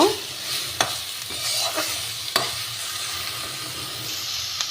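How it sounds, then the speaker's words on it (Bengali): Red amaranth greens frying in a pan are stirred with a spatula, giving a soft, steady sizzle broken by several sharp scraping strokes, close up and without talk. "দেখো, লাল শাকটা ভাজা হয়ে গেছে।"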